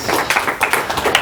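Audience applause greeting a speaker at an academic lecture, a short burst of steady clapping from the crowd.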